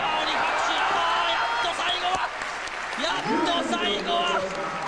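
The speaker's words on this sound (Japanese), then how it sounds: "大拍手今起こりましたよ FMW のファンからね。" Crowd applause rises from fans at a Japanese FMW professional wrestling match, a dense roar of clapping and cheers running under excited commentary, with a few sharp thuds in the background.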